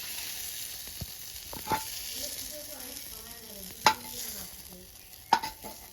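Koi fish frying in a pan, a soft continuous sizzle broken by a few sharp clinks and scrapes of a utensil stirring, heard up close and fairly quiet with no speech.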